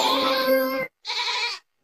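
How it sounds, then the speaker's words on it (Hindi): A goat gives two loud, close bleats, the first longer and strongly voiced, the second shorter after a brief pause, with no talk over them. "जब बकरी को भूख लगती है तो वह चिल्लाने लगती है।"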